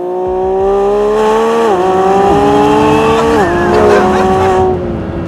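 A Lamborghini Revuelto cruises on a highway in sport mode, its engine droning loudly and close as the pitch climbs and drops sharply through several quick gear changes.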